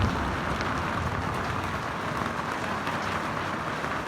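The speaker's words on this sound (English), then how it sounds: "It's raining ice." Hail pelts down on an off-grid farm in central Portugal, a dense, continuous hiss of ice striking surfaces, loud and steady from start to finish.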